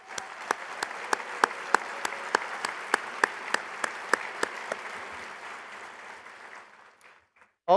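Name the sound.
audience applause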